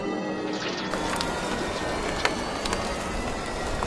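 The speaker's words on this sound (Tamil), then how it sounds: "திடீர்னு பயங்கரமா மழை பெய்ய ஆரம்பிச்சுது." Heavy rain sound effect in a children's bedtime story, a dense, steady, loud downpour hiss with scattered drop ticks throughout, and no voice over it.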